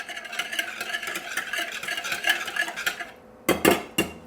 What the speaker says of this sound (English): And again, whisk this all together.